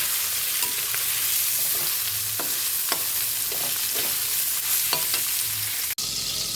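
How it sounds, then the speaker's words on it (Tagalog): Pork adobo frying in a pan, a steady close sizzle broken by several sharp scrapes and stirring clinks, with a brief dropout near the end. "Piniprito na po natin yung ating adobo."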